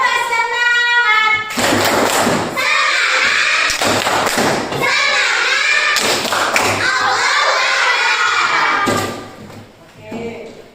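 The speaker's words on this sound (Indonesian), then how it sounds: "Kita tepuk semangat dulu. Tepuk semangat satu kali lagi." A classroom of children performs a rhythmic spirit clap, bursts of loud hand clapping in patterned groups alternating with children chanting together, close and energetic, fading toward the end.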